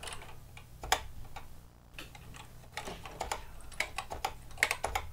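Typing on a computer keyboard during repair work on a ROM programmer: irregular clusters of sharp key clicks, close and fairly quiet, with short pauses between bursts and no talk.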